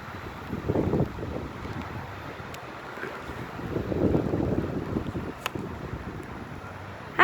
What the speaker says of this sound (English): It's kind of cold and it's raining and it's very windy.